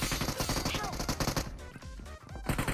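Rapid bursts of gunfire in a battle royale shooter, loud repeated cracks running through the whole stretch, with players chattering over the shots.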